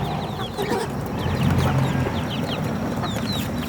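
Hens, including ducks, cluck and chatter repeatedly over a farmyard background, several birds close by, with short overlapping calls.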